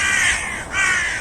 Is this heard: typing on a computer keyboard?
no